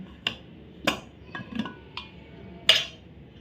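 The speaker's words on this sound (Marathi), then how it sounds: "आता कुकरची ही वाफ गेलेली आहे आणि आता मी हा कुकर उघडते" A pressure cooker being opened after its steam is released, a handful of sharp metallic clinks and knocks of the lid against the pot, close and separated by short pauses.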